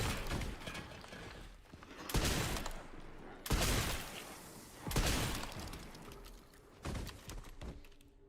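A shotgun firing in Resident Evil Requiem: four heavy blasts spaced a second or two apart, each followed by mechanical clacks, with quiet ambience between the shots.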